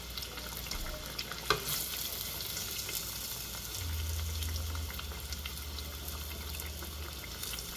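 Buffalo fish pieces coated in gluten-free sorghum flour fry in hot peanut oil, giving a steady close crackling sizzle with a brief clatter near the start.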